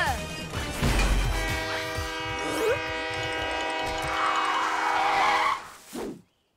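A sustained, harmonically rich toy train horn blast sounds loudly for several seconds over a rumbling, clattering background, then cuts off abruptly.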